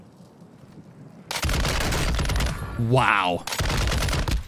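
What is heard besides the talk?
RAL SMG gunfire in Call of Duty Warzone video game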